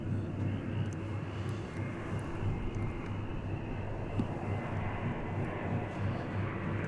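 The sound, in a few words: airplane arriving at DFW Airport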